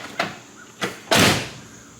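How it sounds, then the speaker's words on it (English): On a hot rod, the back doors pull themselves shut: two soft thuds followed by a longer rushing latch sound, each close and distinct, with no talking. "See these back doors on this one? Pulls themselves in."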